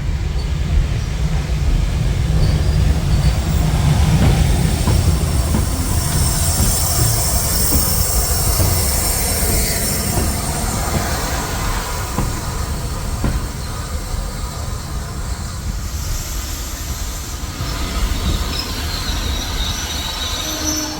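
A Merchant Navy class steam locomotive, Canadian Pacific, passes on the Mid Hants heritage railway. It gives a loud, continuous rumble of wheels and carriages close by for about twenty seconds, with no voices.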